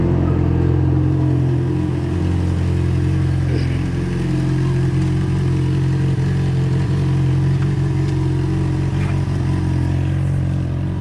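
A motorcycle engine runs loud and close with a steady, droning hum and faint clatter, holding an even level for around eleven seconds as the bike is ridden off, with no voices.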